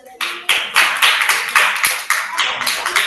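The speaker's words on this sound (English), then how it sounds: "please have a round of applause for Deepika." Rhythmic hand clapping, about a dozen distinct claps in steady succession, close and fairly loud, from a small class applauding a student, likely over an online call.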